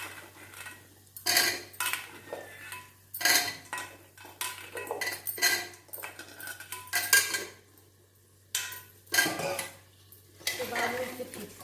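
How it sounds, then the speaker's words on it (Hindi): Potatoes tipped into a pan of cooked masala, with metal spoon scrapes, clinks against the pan and a soft sizzle in irregular bursts and pauses, with no talking. "ये देखिए अब इसमें डाल रही हूँ आलू।"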